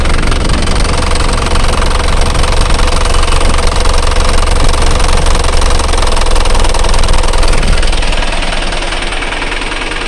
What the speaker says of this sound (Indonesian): ini mesinnya getar banget lah, ini berarti terlalu rendah RPM-nya